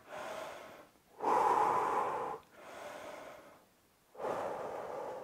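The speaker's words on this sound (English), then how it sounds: "Let's breathe one more time." Deep breaths during a rest between sets of an at-home fat-loss workout: two long, loud inhales, each followed by a softer, airy exhale, close to the microphone with no talking.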